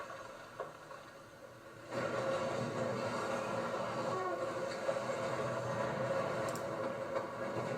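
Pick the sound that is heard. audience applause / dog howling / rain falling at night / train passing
train passing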